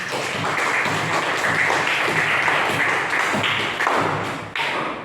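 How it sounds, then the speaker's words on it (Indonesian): Classroom applause: a group of students clapping together near the microphone, steady and fairly loud with a few brief dips, and no talking over it. "Tepuk tangan untuk kalian semua."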